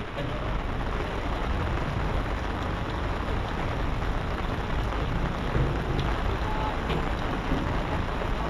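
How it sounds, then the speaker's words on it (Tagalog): Steady, dense rain pours onto a small fishing boat out at sea, a loud, continuous broadband hiss of drops drumming on the deck and tarp with no clear voices over it. "Ulan na oy, balag ulan ka oy"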